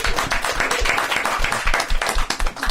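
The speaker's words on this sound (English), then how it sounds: "How about a round of applause for Melissa?" Close, loud clapping from a small audience at a panel on anti-Black racism in Canadian music honours panelist Melissa Vince. Individual hand claps come through distinctly in a quick, uneven rhythm.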